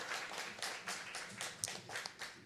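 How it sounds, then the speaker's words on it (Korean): A church congregation at a Sunday morning service claps in welcome, giving soft, brief bursts of applause in a quiet hall with no talking over it. "다시 한번 우리 정식으로 한번 박수로 환영해 주시겠습니다"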